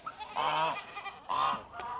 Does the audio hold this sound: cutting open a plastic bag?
no